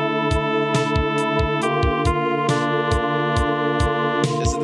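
Verse from a songwriting demo plays back, a steady rhythmic arrangement with regular percussive hits and sustained tonal harmony, with a chord change partway through and no talking.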